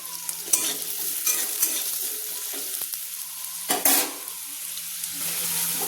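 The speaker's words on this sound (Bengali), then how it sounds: "গাজরগুলো আগে দিয়ে আমি প্রায় হাফ মিনিট মতো ভেজে নিচ্ছি" Carrots fry in a pan over a medium flame, giving a steady close sizzle with a few sharp clinks and scrapes of stirring, and no one talking.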